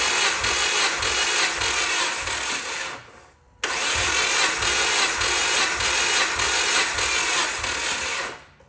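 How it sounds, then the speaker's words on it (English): A Subaru Forester XT engine cranks on its starter during a compression test, a loud, steady, slow whirring churn with rhythmic pulses that stops briefly, then resumes for several more seconds before cutting off. "Wish that starter was turning over faster"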